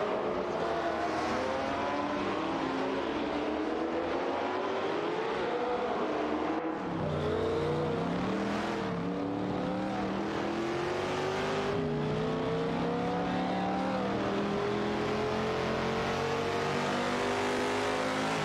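Classic race cars, a Porsche 908 LHR Coupe and a Ferrari 330 P4, roar loudly and continuously on a track, their engines rising and falling in pitch through gear changes as they duel closely for position.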